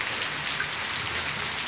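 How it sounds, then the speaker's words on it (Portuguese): Heavy rain pours down at the Orós reservoir, a dense, even hiss of drops hitting the surface that stays loud and unbroken throughout. "Ela teve mais intensa a chuva, mas deu uma diminuída, mas ainda continua forte ainda."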